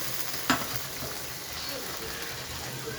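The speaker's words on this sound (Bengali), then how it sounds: "তেল গরম হয়ে গেছে, কালো জিরে ফোড়ন দিলাম" Black cumin seeds hit hot oil in a pan with a steady, soft sizzle and crackle, cooking for tangra fish tel jhal. One sharp click comes early on.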